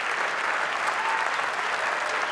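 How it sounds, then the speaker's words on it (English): Large audience at the BAFTA Games Awards 2017 applauding the nominees, a loud, continuous, even roar of clapping that holds steady throughout without talk. "A round of applause for all our nominees this evening."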